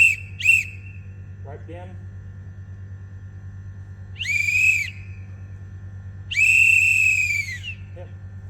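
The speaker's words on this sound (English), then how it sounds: "Just blowing that whistle a bit more confident." A dog handler's training whistle gives sharp, loud blasts during a working dog session: two quick pips, then two longer drawn-out whistles, over a steady low hum, with a brief spoken command in between.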